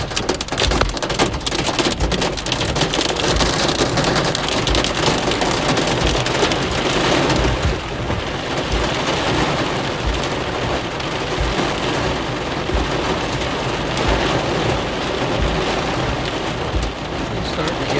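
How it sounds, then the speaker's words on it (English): Heavy rain and hail from a severe storm in southeast Nebraska pound loudly and steadily, a dense roar of impacts with no talking. "Starting to get some hail here."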